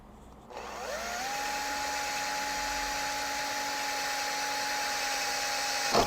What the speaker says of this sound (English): drill a hole through here